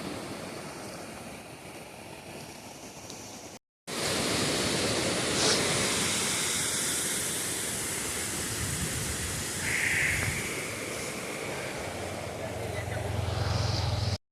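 The Painganga river at Rani Dhanora flows with a broad, steady rush of water, close and continuous, broken by one brief dropout before the roar resumes at full strength.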